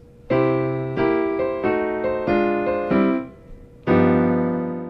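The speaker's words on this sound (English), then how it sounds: "Variation 1 adds 8th notes and sounds like this." Piano chords move through a blues turnaround in a steady eighth-note rhythm, several repeated strikes per chord, then settle on one long ringing chord.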